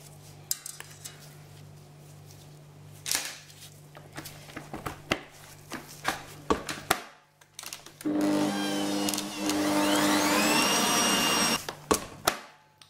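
Italian or Russian meringue buttercream for cupcakes is re-whipped with an electric mixer, a steady whirring drone running several seconds after scattered clinks and bowl taps, then stopping back to sporadic knocks.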